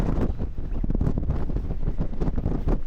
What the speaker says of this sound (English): It's really strong wind.